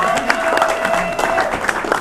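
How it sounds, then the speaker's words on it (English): Applause and crowd noise for Tough Mudder volunteers, clapping mixed with cheering and voices in the crowd, fairly close and loud, with some tonal whistle-like sounds over it. "Let's give a round of applause for our volunteers."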